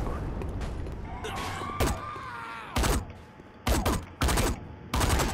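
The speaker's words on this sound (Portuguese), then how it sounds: "Vamos usar arma de atirar elástico" A rubber band gun fires in Saints Row IV, several loud, sharp shots in separate bursts over busy game sounds, closely spaced toward the end.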